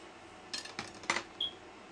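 A knife cuts homemade bread rolls in half on a board, giving a few quick, soft, close taps and scrapes in a quiet kitchen.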